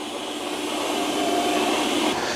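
Eufy robot vacuum cleaner running nearby, a steady loud whooshing hum with a faint whine rising slightly in the middle, constant throughout with no voices.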